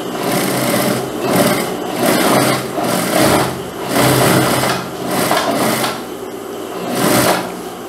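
A sewing machine topstitches the waistband of a sport-collar jacket, running close and loud in repeated bursts of rapid needle chatter with short pauses between them.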